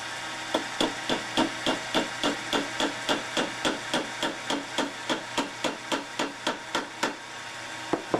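An aluminum point being fitted into a wood-turned top: a steady series of about two dozen sharp, evenly spaced hammer-like taps, close and clear, with no talking.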